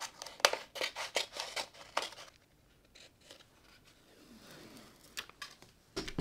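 Scissors snip clear transfer film in a quick run of close, crisp cuts, then a quieter rustling pause before a few more snips.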